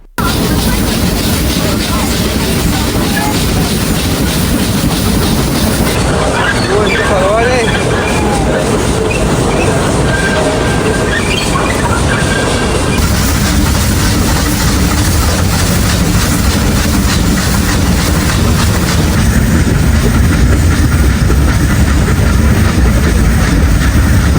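A steam-engine toy train on the Ooty mountain line rolls along the rails with a loud, continuous rumble and rhythmic clatter of wheels, with voices faintly audible at times.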